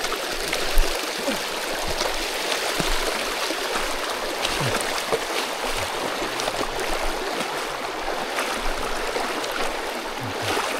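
A river stream flows steadily while someone wades across it at a forest trail crossing on Gunung Tahan, a constant close wash of rushing water with occasional small splashes, no voices.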